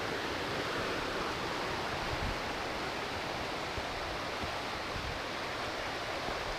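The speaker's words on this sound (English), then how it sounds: "there's a little tributary creek over there coming in" A small tributary creek in Mill Creek Park flows steadily without pause, a constant broadband wash of rushing water nearby, with no voices.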